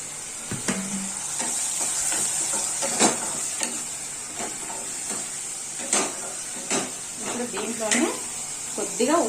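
A spoon stirs turmeric into sizzling tamarind leaves in a hot pan for a roti chutney, with steady frying hiss, scattered scraping clicks against the metal and someone talking over the cooking.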